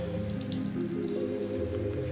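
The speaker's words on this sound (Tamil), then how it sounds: "இப்போ புளியெல்லாம் எவ்வளோ தண்ணி வருதுன்னு பாருங்க" Water trickles and drips as a vegetable Manchurian mixture is squeezed by hand, a continuous close wet patter with no talking.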